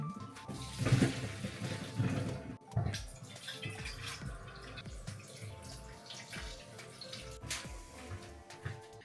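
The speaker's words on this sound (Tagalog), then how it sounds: "Hugasan ko lang to siya sa malamig na tubig." Blanched vegetables rinsed under a cold kitchen tap, a steady stream of running water with splashing and clatter in a sink, continuous and close for several seconds.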